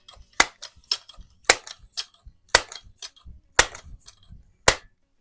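Shots from a 1949 vintage Crosman model 120 air pistol being plinked at targets: five sharp, close pops spaced about a second apart, each followed by a faint click or ping in an otherwise quiet space.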